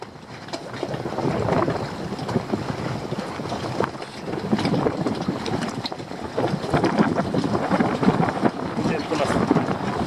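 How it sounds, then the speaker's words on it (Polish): Gusty wind buffets the microphone in a steady roar outdoors on a fishing trip, with occasional louder gusts and a voice speaking briefly over it. "wiatr się trochę wzmaga, ale damy radę"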